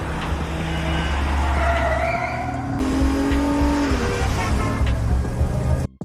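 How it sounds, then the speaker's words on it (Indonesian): Luxury cars race with engines roaring and tires squealing in long skids, loud and continuous before cutting off abruptly at the end. "Tapi Jack meminta mereka untuk balapan."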